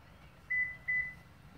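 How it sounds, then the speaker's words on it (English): Two short, clear electronic beeps chime in quick succession from a Toyota Camry during smart key programming, crisp and close over a quiet background with no talk. "It's making two beep sound."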